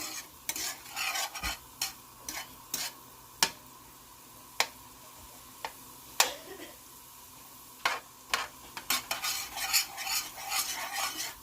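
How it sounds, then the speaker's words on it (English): Garlic sauteing in melted butter in a pan on a stovetop under a faint, steady sizzle, with sharp utensil taps and stirring clicks scattered irregularly throughout and a busier clatter near the end. "We're going to let that saute down with the butter."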